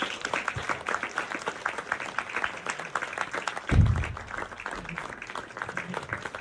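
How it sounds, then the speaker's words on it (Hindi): Audience applause at a theater festival, a steady crowd of clapping hands filling the room at moderate volume, with a brief low thump partway through. "आपकी भरपूर तालियों में इलियास नबी।"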